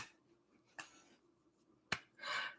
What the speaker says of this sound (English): Oh, slow clap.